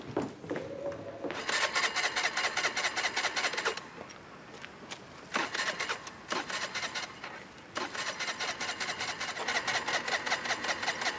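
A scooter engine starts and revs in several uneven bursts, with quiet gaps between them. The sound is close and of moderate loudness.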